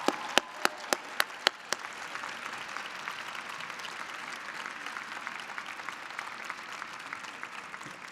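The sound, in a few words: graduation audience applauding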